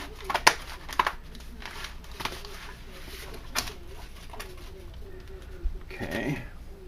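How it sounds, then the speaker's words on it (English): Heavy-duty scissors cut paper into strips, making a few faint, crisp snips and light rustles in a quiet room, with soft low cooing in the background. "I'm using a heavy-duty pair of scissors."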